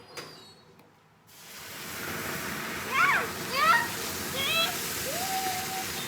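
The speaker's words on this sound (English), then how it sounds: "that's making some nice steam." Water poured into a hot baking tray in an oven while baking bread gives off a steady, fairly loud steam hiss that starts abruptly and holds, with a few faint higher chirps over it.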